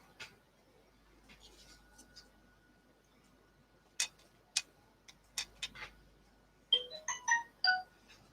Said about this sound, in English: My phone going off.